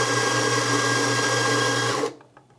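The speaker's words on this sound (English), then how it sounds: "alongside the Horizont I'm using a Eureka Helios grinder" A Eureka Helios grinder grinds espresso coffee with a loud, steady whirring buzz that runs for about two seconds, then cuts off abruptly, leaving quiet clicks.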